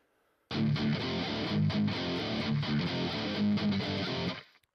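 An electric guitar played through a high-gain amp simulator stack rings out in a thick, sustained distorted chord pattern lasting about four seconds before cutting off abruptly.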